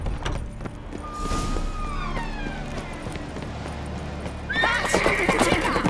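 A horse clip-clops at pace in The Witcher 3 and lets out loud neighs and whinnies, with a sharp, high whinny near the end over the hoofbeats.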